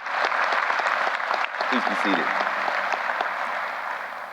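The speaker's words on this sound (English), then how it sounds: "Let's give my family a hearty round of applause." Applause from an audience at a university presidential investiture, steady and dense throughout with a voice speaking over it partway.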